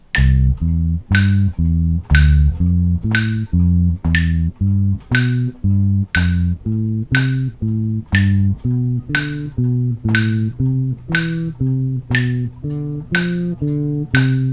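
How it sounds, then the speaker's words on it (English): Bass guitar notes plucked one at a time in an even, steady rhythm, stepping through arpeggiated chord shapes up and down a scale, played clean and alone. "I like to work my scales and my triads combined by moving through the scales a triad"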